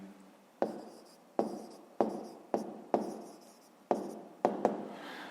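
A pen writes by hand on paper during a fifth-grade math exercise, a close series of about eight short scratchy strokes, each fading quickly, with no talking.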